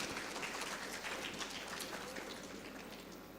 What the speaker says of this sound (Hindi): सर का तालियों से स्वागत कीजिए।